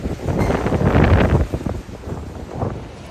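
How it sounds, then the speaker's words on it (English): Strong wind buffeting the microphone outside a cruise terminal as a hurricane approaches, a loud rumbling roar that swells in the first second and a half, eases, then gusts again near the end, with no speech. "It's so windy"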